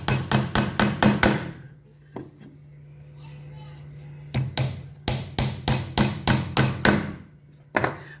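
Hammer blows drive nails into a wooden folding stool, sharp close strikes in quick bursts of five or six, separated by a brief pause with a low hum underneath.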